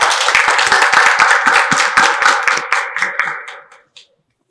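Audience at a Christian Journalist Association of Pakistan Christmas dinner claps loudly and steadily, a dense burst of applause that thins into a few scattered claps before stopping abruptly.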